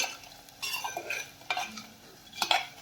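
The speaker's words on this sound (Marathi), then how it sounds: "त्यामध्ये टाकून घेऊयात हिरवी मिरची आणि हिरवी मिरची यामध्ये एखाद मिनिटभर छान परतून घेऊया" Green chillies and softened onion sautéed in a pan, a few quick spatula scrapes and clinks against the metal over a faint sizzle, close and quiet with no one speaking.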